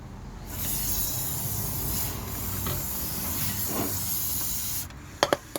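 Fine spray of underbody protection wax injected into the sill of a Ford Focus Mk1, a steady close hissing that runs for several seconds before cutting off, followed by a few sharp clicks.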